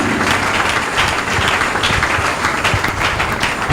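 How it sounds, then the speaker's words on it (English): Church congregation clapping hands together in a dense, continuous burst of applause, fairly close and steady for a few seconds with no talk over it. "Clap your hands for Jesus."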